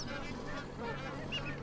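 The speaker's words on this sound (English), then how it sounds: "including huge flocks of magpie geese, whistling ducks, and pygmy geese." Magpie geese honking in a wetland where huge flocks gather alongside whistling ducks and pygmy geese; dense overlapping calls from many birds form a steady chorus with a few clearer honks standing out.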